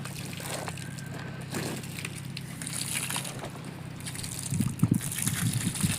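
Water splashes and trickles onto cow dung as ghana jeevamrutham, an organic farm fertilizer, is being mixed outdoors, a soft sloshing wash that grows louder with a burst of splashing near the end.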